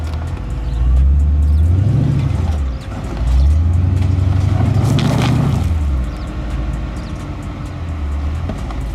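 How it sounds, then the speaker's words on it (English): A Jeep SUV engine labours loudly as it climbs an off-road slope, revving in surging waves with the tyres spinning slightly on the loose ground, and the engine note rises and falls twice. "Slight wheel spin and the Jeep moves higher."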